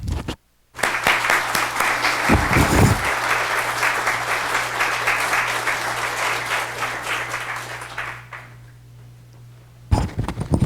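An audience at a talk welcomes the speaker with sustained, loud applause that rolls steadily for about eight seconds before fading away.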